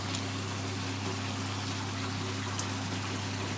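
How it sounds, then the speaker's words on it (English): Water trickles and drips from a leaking joint in hot tub plumbing as the tub fills, a steady close hiss of flow over a constant low pump hum, with no speech. "Oh, we got a bit of a leak there."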